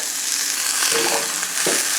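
Tuna fillet cooking in a pan gives a steady close sizzle with brief stirring or shifting sounds, and no talk over it.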